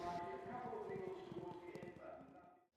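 Racehorse galloping on a track, a quick rhythmic drumming of hooves under steady commentary, fairly faint and fading toward the end.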